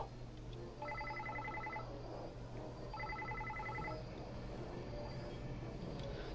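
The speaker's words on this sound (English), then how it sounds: "Suddenly, it seemed like Shuri's cell phone started ringing." A cell phone ringing in the visual novel game Psycho-Pass Mandatory Happiness: two bursts of rapid electronic trilling rings, about a second each with a pause between, over a low steady background hum.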